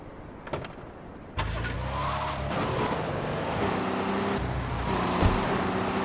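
Minivan engine in the video game Grand Theft Auto III starting up abruptly after a moment of quiet, then a steady mid-volume engine drone with rising and falling revs and some tire noise.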